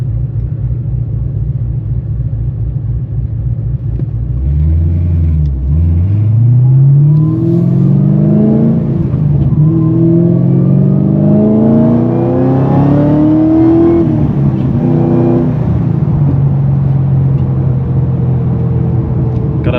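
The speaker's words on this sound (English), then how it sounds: "Gotta love that supercharger whine" Supercharged car engine revving on a morning drive through Brisbane, its whine climbing in pitch through the gears over a deep rumble, loud and close, with several rising sweeps.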